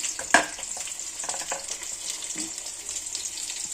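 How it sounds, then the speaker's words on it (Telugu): Two tomatoes fry in hot oil in a pan, a steady close sizzle with a sharp crackle near the start and scattered spits and stirring noises over it. "హీట్ అయిన తర్వాత అందులో 2 టమోటాస్ ఫ్రై చేస్తున్నాను"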